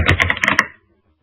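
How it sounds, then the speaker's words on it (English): Rapid keyboard typing picked up over a call line during an earnings conference call, a quick burst of about six or seven close clicking keystrokes that stops abruptly into silence. "your typing is coming through on our side"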